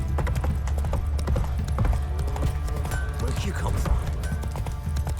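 Roach the horse clip-clops along in The Witcher 3, steady hoofbeats running under in-game ambience while a voice speaks briefly over them.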